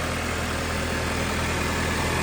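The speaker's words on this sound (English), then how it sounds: "Now here's the engine running just fine." A car engine idles after an air filter replacement, giving a steady, even drone at close range with no voices.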